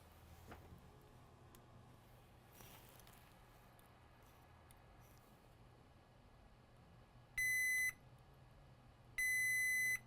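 Multimeter in diode mode beeping while probing a Galaxy S9 Plus phone board for a short, two sharp steady beeps near the end over faint background hiss.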